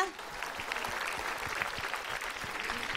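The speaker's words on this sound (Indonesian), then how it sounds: "Tepuk tangan buat Ustaz Maulana" Studio audience at an Indonesian Islamic kids' talk show claps for a preacher, a dense, steady round of applause with scattered individual claps standing out, continuing through the clip with no talk over it.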